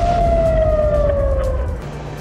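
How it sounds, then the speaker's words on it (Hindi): Air raid alert siren sounding at night during Israeli strikes on a port, a single loud steady wailing tone slowly falling in pitch over a low rumbling background, fading slightly at the end. "अलर्ट सायरन बजते रहे।"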